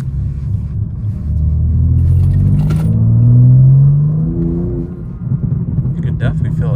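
A Stage 2 tuned BMW M4 Competition (G82) accelerates at light throttle from inside the cabin, a loud low engine drone rising steadily in pitch for a few seconds before easing off.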